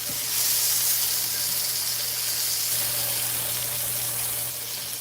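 Sausage sizzles steadily in a cast iron pan, a continuous close fizzing hiss with a faint low hum beneath, holding an even level with no talk.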